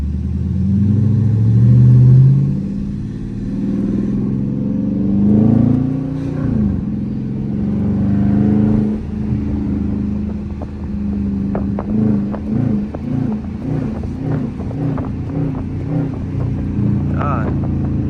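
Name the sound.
Dodge Charger RT engine during a loud night drive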